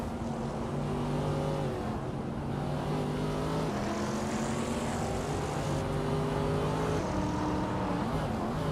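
A 2006 Audi RS4 race car in a racing video game drones loudly and continuously, its engine tone climbing and dropping through gear changes as it accelerates, with no voices over it.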